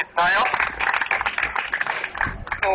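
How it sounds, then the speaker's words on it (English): Audience applause at a ground breaking ceremony for a leadership library, a steady wash of clapping lasting a few seconds with voices and cheering mixed in. "A round of applause for Ms. Nayo."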